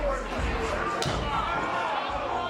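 A wrestler's head is slammed into the ring mat during a women's professional wrestling match, a single dull thud near the middle heard under a steady crowd and arena noise with talking over it.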